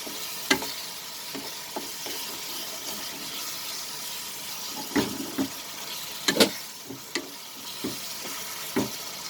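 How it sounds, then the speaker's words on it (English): Prawns frying with masala in a pan for prawn curry with coconut milk: a soft, constant sizzle punctuated by scattered spatula knocks and stirring scrapes, a few of them sharper and louder, with no voices. "And add the prawns now, fried prawns."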